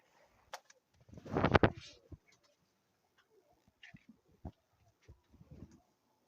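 Soft, low pigeon coos rise in a brief burst, followed by scattered quiet rustles and faint clicks in a calm setting.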